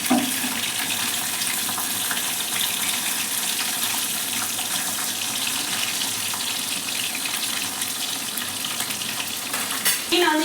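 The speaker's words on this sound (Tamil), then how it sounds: "மீனை வந்து இந்த அளவுக்கு தான் பொரிச்சு எடுத்துக்கணும்." Rock fish frying in a pan, a dense, steady sizzle and crackle of hot oil heard close up and continuous, with light clatter near the end.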